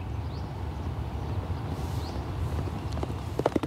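Racehorses move along a training track with a steady clip-clop of hooves, with faint chirps and a few brief sharper knocks near the end.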